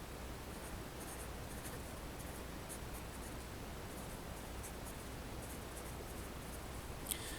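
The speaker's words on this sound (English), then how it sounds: "So let's go ahead and write that down" Pen or pencil scratches faintly and steadily across paper while notes are written by hand, soft continuous rustling with no voices.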